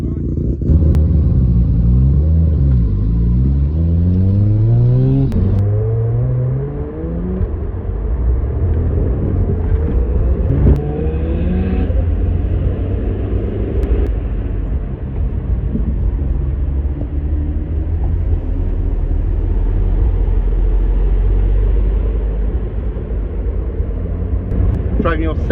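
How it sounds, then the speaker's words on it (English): A 700bhp-plus Mazda FD RX7 with a 10,000rpm rotary engine, driven on narrow country lanes, makes a loud continuous rumble with rising and falling revs, close and steady throughout, while people talk over it. "Driving your 700 plus horsepower FD RX7 down country lanes just wide enough for the spoiler."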